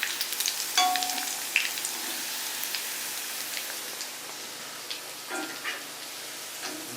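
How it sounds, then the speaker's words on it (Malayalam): Chicken pieces frying in hot oil: a steady, hissing sizzle with scattered crackles and pops, fairly close and moderate in level, with occasional brief clinks of stirring and no voices. "നമ്മുടെ ചിക്കൻ വറുത്ത് അതൊന്ന് കോരി മാറ്റാം"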